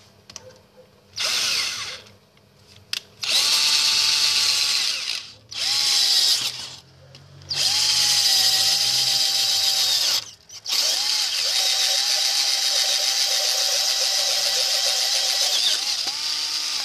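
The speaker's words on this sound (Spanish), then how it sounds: "Y le vamos a agrandar el orificio interno para que entre el caño de un cuarto." A power drill widens the inner hole of a homemade compressor part so a quarter-inch pipe fits. It runs in several loud, close bursts of steady whining, with short pauses and a brief stop near the end.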